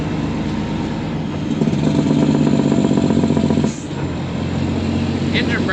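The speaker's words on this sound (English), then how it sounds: "Engine brakes are working, at least high is." A semi truck's diesel engine drones steadily while driving, then the engine brakes kick in with a loud, rapid rumbling chatter. The sound is close and continuous, with a brief dip near the end before it resumes.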